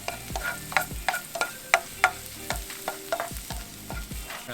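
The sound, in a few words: garlic frying in a pan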